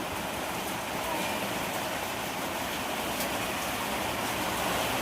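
Continuous rain falls in an even, dense hiss, steady and close, with no voices, in a village.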